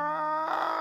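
A voice mimics a chicken, starting with a steady, harmonic clucking tone that shifts halfway into a broader, rougher squawk, one short close call of under a second.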